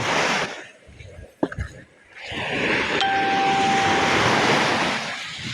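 Waves washing onto a shore after a night of heavy rain, a steady broad surf roar with wind noise on the microphone, a brief clank near the start and a faint ringing tone, no clear talk.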